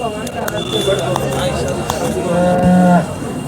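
A cow moos loudly and close at a cattle market in Sangola, a long low call near the end, over busy market chatter and other distant lowing.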